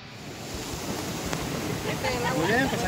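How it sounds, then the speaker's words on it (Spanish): Sea surf breaking at the shoreline beside a pier, a steady washing roar with gusts of wind buffeting the microphone and a voice talking over it. "aquí estamos a la orilla del mar, en el muelle"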